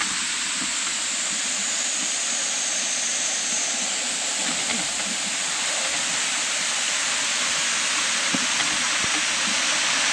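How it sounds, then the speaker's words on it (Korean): A waterfall dropping about 30 metres in a mountain valley roars steadily and loudly, a dense unbroken rush of falling water filling the whole scene without pause. "폭포가 있는데? 폭포가 되게 많다."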